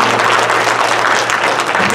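A church congregation clapping their hands in unison before being seated, a dense, steady wash of applause held at an even level for a couple of seconds.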